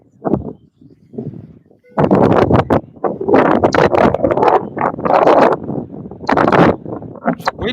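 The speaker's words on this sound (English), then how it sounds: "Can you hear that wind?" Wind gusts buffet an outdoor microphone, producing loud, rough rumbling bursts that come and go, with quieter stretches between them.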